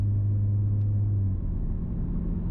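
An Audi S5 with its stock exhaust in normal drive mode gives a steady, close, low engine drone with a constant hum that eases slightly partway through, with no talking.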